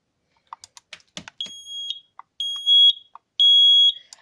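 An X-Sense SD12 smoke detector sounds its alarm: three loud, shrill electronic beeps at steady intervals, each about half a second long, after a few soft clicks of handling and packaging.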